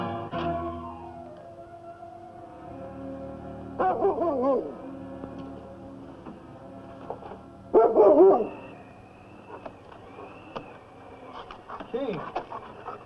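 A large sled dog barks in loud, excited bursts, with two strong outbursts a few seconds apart over a steady dramatic orchestral music bed in an old Yukon radio-style drama.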